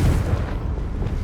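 A Confringo blasting spell explodes in the Hogwarts Legacy video game, a loud, dense low boom with a rumbling body that fills the whole short moment without a break.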